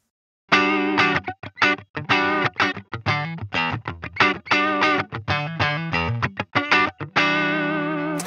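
Distorted electric guitar chords through a Line 6 Pod Go with its LA Studio Comp compressor, strummed in a punchy, stop-start rhythm, sounding thick and evenly squeezed in loudness, ending on a long held chord.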